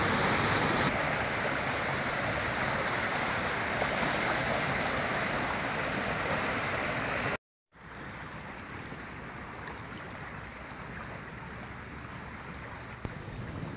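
A river flows steadily in a broad, continuous rush of water that runs loud and unbroken, with a brief cut partway through before the rushing resumes slightly softer.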